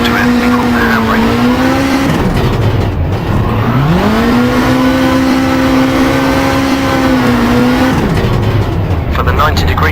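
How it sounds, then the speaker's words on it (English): A rally car in Richard Burns Rally is flung into a hairpin with a handbrake turn, loud tire squeal and a sliding skid over a revving engine that drops and rises again, with a voice talking underneath. "Before the corner, turn hard into it and pull the handbrake."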